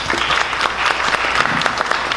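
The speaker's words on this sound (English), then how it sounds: "Give it a round of applause." Audience applause bursting out after a startup pitch presentation, a dense, steady wash of many hands clapping at close to moderate distance with no talk over it.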